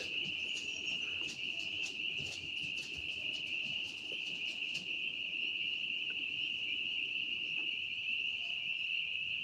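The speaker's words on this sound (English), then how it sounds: "Lots of frogs, tree frogs screaming." Tree frogs call loudly at night in a steady, piercing high-pitched chorus that runs unbroken from start to end, with faint rapid clicking pulses in the first half and no talk.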